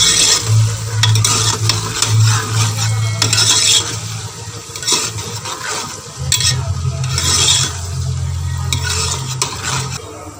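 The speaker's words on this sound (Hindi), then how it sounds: "प्याज को हम गोल्डन ब्राउन करेंगे।" Onions frying in hot oil in a pan for aloo keema, a constant close sizzle with repeated scraping stirs of a spoon against the pan, no talk.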